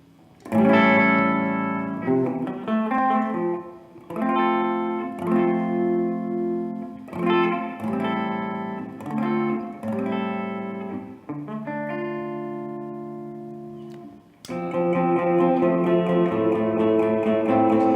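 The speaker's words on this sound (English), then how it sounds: "Let's brighten up the reverb a little up on tone" Electric guitar through a T-Rex reverb pedal on the Hall setting, tone turned up, plays sustained chords and phrases drenched in reverb, the notes ringing out and trailing off between strums, with no talking.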